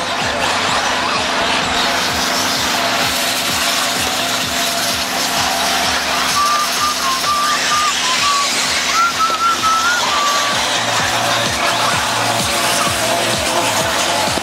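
RC buggies racing around a track in a final, a continuous high-pitched whine of small engines under constant loud crowd-like noise, with faint whistling tones passing midway.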